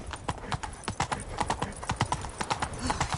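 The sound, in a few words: horse Roach hooves clip-clopping, The Witcher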